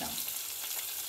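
Garlic frying in hot oil gives a steady, close, crackling sizzle that runs evenly throughout with no voices.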